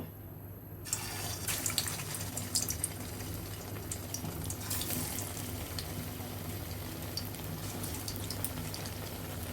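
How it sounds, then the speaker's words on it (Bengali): Homemade chicken burger patties go into hot oil, and a loud sizzle bursts in just under a second and then carries on steadily and close, with no talking. "আমাদের তেলটি গরম হয়ে গিয়েছে, এখন বার্গারগুলো দিয়ে দেব"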